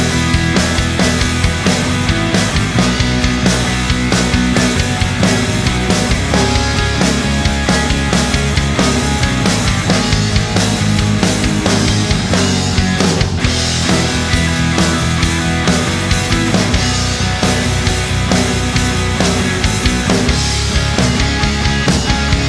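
A full band mix with guitars recorded through real microphones, a dense wall of distorted guitar, bass and drums playing steadily and loudly throughout.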